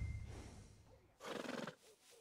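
A black Shire horse in the video game Red Dead Redemption 2 gives a single whinnying neigh after some low shuffling, fairly quiet overall.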